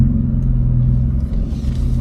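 A manual-transmission car reverses during a Florida driving test, its engine giving a steady, close low rumble with no voices.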